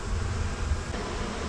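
Bees buzz steadily around a wooden hive box in close, continuous droning with no talk over it.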